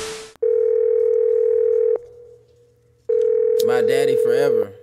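Telephone tones ring in a music track, two long steady electronic beeps separated by a pause, loud and close, with a voice singing over the second tone.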